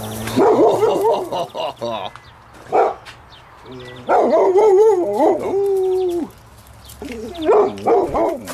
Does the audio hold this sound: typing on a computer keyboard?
no